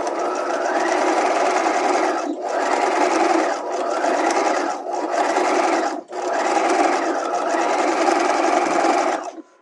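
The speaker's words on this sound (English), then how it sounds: "I'm going to stay stitch this neckline at a 1/2 inch just because it's cut through bias" A sewing machine stay stitches a bias-cut bodice facing neckline, running loud and close in a steady whir, pausing briefly several times between runs.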